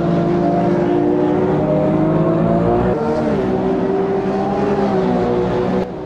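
Race car engine from the sim Automobilista 2 holds a loud, steady high-rev drone with layered harmonics, dipping briefly as the pitch shifts around a gear change, then running on flat out to a sudden drop at the end.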